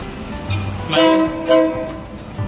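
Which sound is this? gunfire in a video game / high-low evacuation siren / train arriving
train arriving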